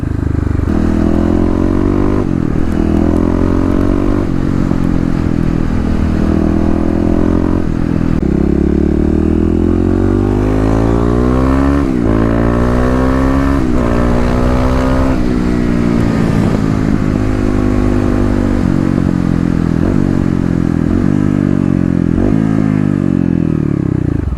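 A 2018 EFI Kawasaki KLX351 dual-sport motorcycle roars steadily from the rider's position on a cold road, its engine note rising and dropping through repeated crisp downshifts, loud and continuous throughout.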